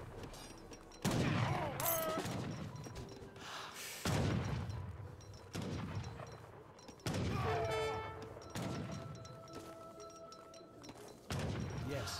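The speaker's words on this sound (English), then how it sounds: "It's a volley there." Musket volleys in the strategy game Age of Empires 3, a series of heavy booming blasts spaced a few seconds apart, each decaying into rumble, with battle noise in between.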